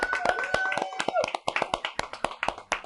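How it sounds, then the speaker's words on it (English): A handful of people in a kitchen, including two chefs who have just finished a vodka-themed New Year's menu, clap in crisp, uneven bursts that settle into a steady rhythm while someone talks. "A round of applause."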